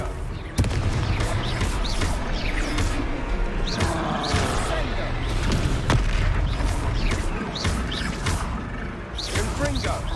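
Confringo fire spells exploding in the Hogwarts Legacy video game, a rapid series of booming blasts and crackling impacts over dense battle noise, loud and close, with a voice shouting spell names during the fighting.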